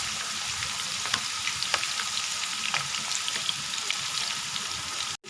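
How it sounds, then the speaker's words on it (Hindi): Lentils (dal) frying in ghee for homemade Pakistani nimko, a steady close sizzle and crackle with small popping bursts, running continuously without talk before cutting off abruptly at the end. "इसको घी में थोड़ा सा फ्राई कर लें"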